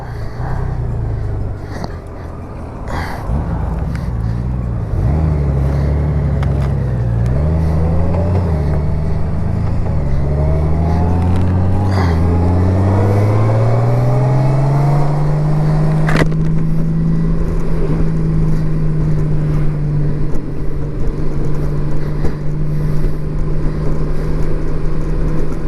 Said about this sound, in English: with my friend Terry, who's in front of me, has a manual GOLDWING just like mine, same year, same color. So we're gonna go out for a ride